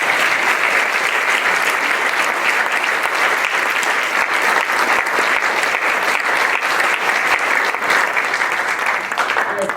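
Loud, sustained applause from a large audience, dense clapping filling the whole stretch without a break.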